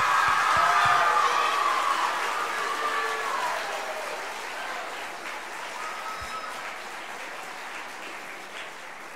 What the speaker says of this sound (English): One more round of applause for us.